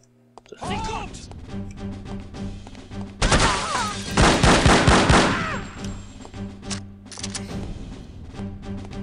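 Gunfire from the video game No One Lives Forever: a dense burst of shots runs for roughly two seconds mid-clip, loud and close, with sharper single cracks after it and game sounds continuing while a player talks.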